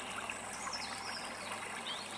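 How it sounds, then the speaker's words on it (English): Gentle trickling and lapping water from a river as a bunny wades in, a soft steady flow with no talk over it. "The cool water lapped at Bella's legs as she slowly waded deeper."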